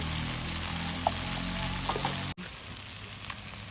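Kashmiri chili powder and turmeric sizzle steadily in hot oil with tomatoes for a chicken curry, a continuous close frying hiss broken by a brief cut near the end, with faint stirring ticks.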